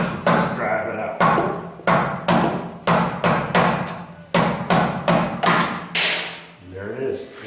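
A blunt chisel is hammered to drive out a brake hose retaining pin at a front brake caliper, about a dozen sharp metallic strikes in irregular bursts, loud and close, with speech briefly at the end.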